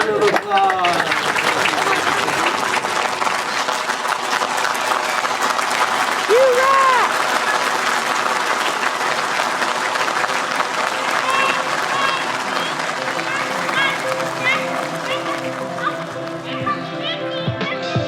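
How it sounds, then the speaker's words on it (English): A room claps for Mandy at the close of a podcast session, sustained applause under overlapping voices and some children's chatter, continuing steadily before thinning out near the end. "Let's give Mandy a round of applause"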